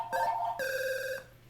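Telephone ringing in NES Jeopardy, two short electronic ring bursts in quick succession, loud and clear with a faint low hum beneath and no talking.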